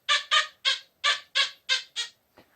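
An XP Deus metal detector gives a target tone indoors, seven quick warbling electronic beeps in an even rhythm, close and moderately loud, with a faint eighth blip at the end.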